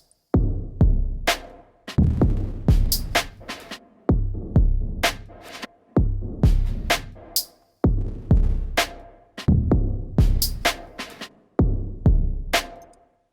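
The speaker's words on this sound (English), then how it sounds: "Pre-delay basically changes the time that the reverb kicks in. So I'll bump this up" A music mix with reverb whose pre-delay has been raised plays as a repeating pattern of punchy beats in two-second bars, with bright transient hits followed by washed reverb tails. Loud and close, with no voices.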